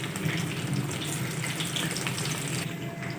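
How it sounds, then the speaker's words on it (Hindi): Chicken coated in masala fries in a pan over a medium flame, a dense, steady sizzle and crackle, close and continuous throughout. "मीडियम फ्लेम पर अच्छी तरह से फ्राई कर लेंगे।"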